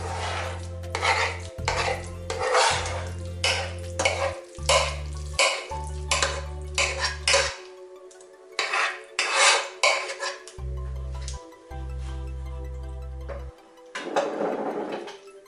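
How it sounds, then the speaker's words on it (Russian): Bean lobio with fried onions and garlic being stirred in a pot, the spoon scraping and clacking against the pot in repeated bursts with short pauses between strokes, close and fairly loud. "Все хорошо перемешиваю."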